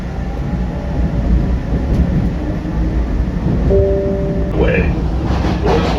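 An MBTA Red Line subway train rumbles along with a loud, deep, continuous roar and faint tonal squeals over it, heard from inside the car.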